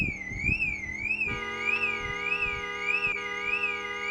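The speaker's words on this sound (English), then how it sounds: "Oh, I just turned the car alarm on." A car alarm in a video game wails in a loud, repeating rising-and-falling electronic tone, with a few dull thuds underneath.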